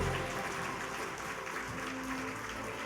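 Applause from the audience at a school annual day celebration as the Class 10 topper walks up to receive her award, a steady wash of clapping that carries on the whole time.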